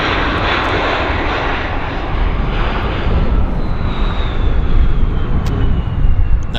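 An airliner lands at Vancouver airport, its jet engines a loud, sustained broadband roar that swells slightly as the aircraft rolls out, heard fairly close with no talk over it.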